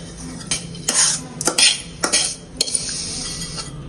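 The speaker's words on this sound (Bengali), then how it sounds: "ভাজা সেমাইটা ঢেলে নিবে" Fried vermicelli (semai) is tipped and scraped out of a pan, with sharp metal utensil clinks and scrapes over a low sizzle and no talking.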